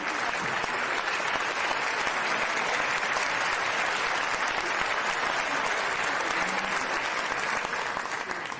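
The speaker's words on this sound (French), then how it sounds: "On peut l'applaudir." Dense, steady audience applause at a formal community dinner, loud and sustained from start to finish with no speech over it.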